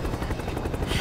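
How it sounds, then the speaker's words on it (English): A helicopter in Resident Evil 6, at an aircraft carrier bridge, throbs with steady rotor pulsing for about a second, fairly loud and continuous, with a hint of gunfire-like noise mixed in. "Helicopter shows up just to shoot her and then flies away."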